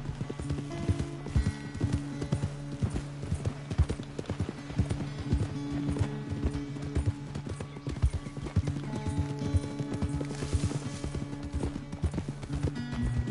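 Rapid clip-clop of horse hooves galloping steadily in Red Dead Redemption 2, with background music tones running underneath throughout.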